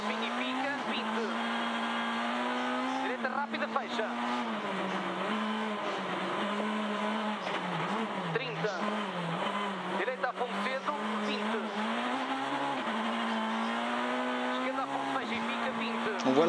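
Rally car racing flat out on a snowy Monte Carlo Rally special stage near St Bonnet Le Froid, heard onboard as a loud, sustained engine drone that rises and falls through gear changes, with commentators talking over it.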